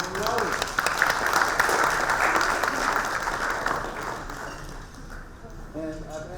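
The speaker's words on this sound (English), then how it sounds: "give them a round of applause" Audience applause fills a room at a parents' open house, dense and steady clapping that carries on for several seconds before thinning out, with a few voices rising near the end.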